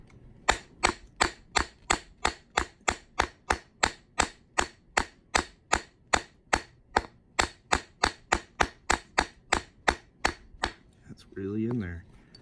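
A plastic hammer taps steadily on a coin ring tool, about thirty even, sharp knocks at a brisk rhythm, close and clear, ending with a brief voice.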